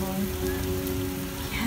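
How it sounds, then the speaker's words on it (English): Steady rain falls on a surface nearby, a continuous even wash with a low hum in the background and no distinct thunderclap. "There's thunder and rain"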